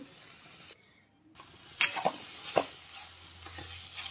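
Food fries in a pan with a soft sizzle, broken by a brief gap, then sharp spatula scrapes and clanks as it is stirred close by.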